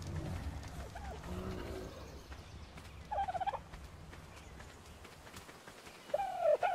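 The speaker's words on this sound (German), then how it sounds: "bis dann wieder so ein blöder Vogel kommt" Bird calls from the ARK: Survival Evolved video game, two short warbling gobble-like cries a few seconds apart over a low steady game ambience, fairly loud and with no talk.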